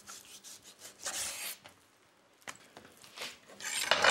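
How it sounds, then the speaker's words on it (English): A knife slices beef tenderloin into half-inch pieces, with a few soft, close sawing and rubbing strokes against a board, separated by quiet pauses. "I'm just gonna cut the meat into half-inch slices,"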